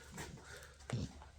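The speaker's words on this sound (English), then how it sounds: "That's an American bully right there." An American bully dog, a heavy female over 60 pounds, whimpers softly and pants close by, with a brief louder low huff near the end.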